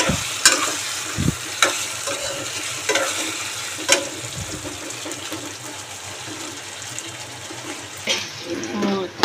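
Brinjal fries in oil in a pan for a Rayalaseema-style oil brinjal curry, giving a steady close sizzle broken by sharp clatters of a lid and spoon against the pan, with no talk.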